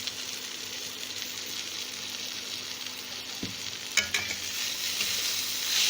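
Spices fry with softened tomato and small potatoes in a pan, a steady close sizzle with a couple of sharp utensil knocks and scrapes partway through, the frying growing slightly louder afterward.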